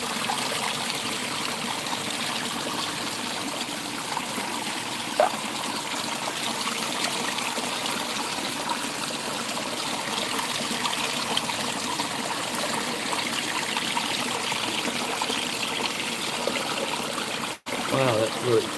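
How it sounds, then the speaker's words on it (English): Creek water trickles and drips over rocks in a steady, close, broadband rush that runs unbroken for nearly twenty seconds, with a brief dropout near the end. "Alright, so this is where it flows with no rock. We get that drip over there."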